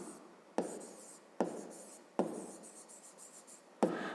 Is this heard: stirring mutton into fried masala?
no